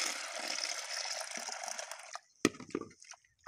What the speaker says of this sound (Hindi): पूरा 1 गैलन पानी डालें।